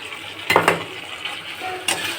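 Vegetables, including kakrol and okra, stirred in hot oil in a pan: a low sizzle with a few sharp scraping clanks of a spatula against the pan, close and brief.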